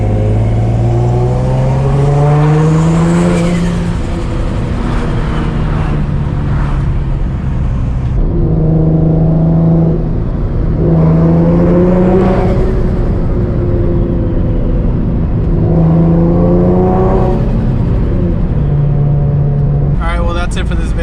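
Single-turbo Nissan 350Z driving through canyon roads, its engine note rising and falling in repeated pulls as it accelerates and shifts, loud and close, with someone talking over parts of it.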